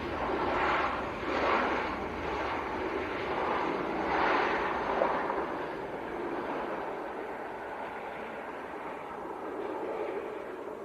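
Ryanair Boeing 737 Max 8 on short final into Leeds Bradford Airport in the evening, a steady broad jet roar with gently swelling and fading waves, fairly close and continuous with no talk.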